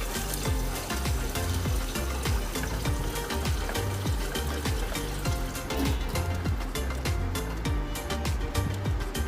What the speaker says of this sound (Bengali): এবার সামান্য জল এর সঙ্গে অ্যাড করলাম যাতে মশলাগুলি পুড়ে না যায়।